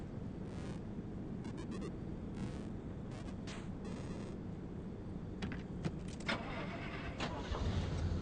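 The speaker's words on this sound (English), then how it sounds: "I just made this station wagon from a V4 to V8." A station wagon engine upgraded to a V8 in the video game Pacific Drive runs as a steady, loud low rumble throughout, with brief clicks and mechanical rattles on top and no talking.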